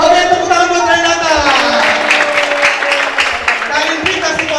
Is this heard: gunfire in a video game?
no